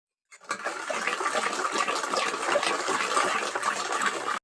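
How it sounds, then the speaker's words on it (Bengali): White cooking oil, about a cup, pours into cake batter in one steady, close liquid stream lasting roughly four seconds, with no talking. "দিয়ে দেবো সাদা তেল"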